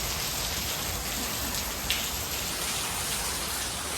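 Heavy unseasonal rain falling during a windy storm on farmland, an even roaring patter of drops on surfaces close by, steady from start to finish with one small knock near the middle and no speech.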